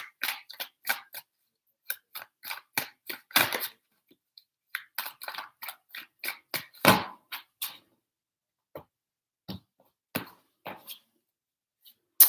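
A deck of tarot cards is shuffled up close, giving quick clusters of sharp card snaps and flicks that thin out into sparse, isolated taps, with no speech.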